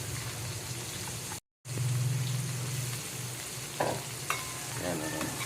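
Shrimp sizzle in a pan for garlic buttered shrimp, a steady close frying hiss with a brief cut in the middle and a few clinks and stirring scrapes toward the end.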